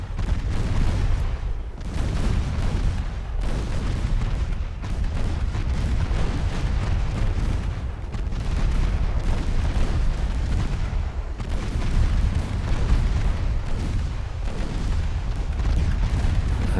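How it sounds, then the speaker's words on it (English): Heavy 12-inch naval guns in Ultimate Admiral Dreadnoughts boom in a continuous, loud barrage, with deep rumbling blasts following one another every second or so and no pause between them. "We can just bring those 12-inch guns to bear."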